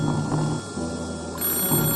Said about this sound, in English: Phone calls with no one on the other end.